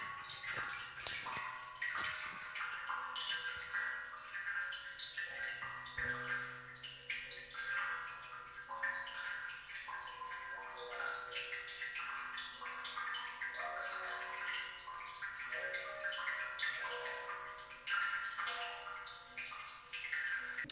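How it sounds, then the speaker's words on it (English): Steady rushing, gurgling water noise like being inside a hot water heater, continuous and fairly loud with small drips and bubbling textures throughout. "It's like being in a hot water heater."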